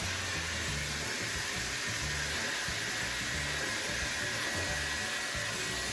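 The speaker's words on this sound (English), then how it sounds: "just make sure you're constantly moving the blow dryer" A blow dryer roars steadily and close up while drying hair, a constant, loud airy whoosh with no pauses and no voices.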